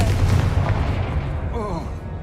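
A Confringo blast spell in the Hogwarts Legacy video game, a heavy booming explosion with a rumbling low tail that fades, alongside a short voiced exclamation.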